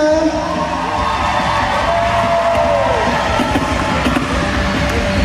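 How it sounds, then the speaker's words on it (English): A crowd at a roller derby bout roars with steady cheering and scattered whoops throughout an arena, loud and continuous, with faint voices mixed into the din. "Let's hear it for Abia Sabia"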